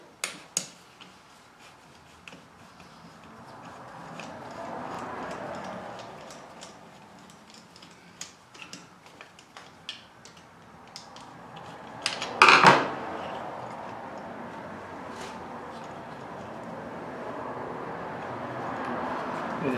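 Torx screws come out of a Homelite string trimmer housing with faint, scattered clicks and taps over a low background hiss, then a brief louder scrape, all close by.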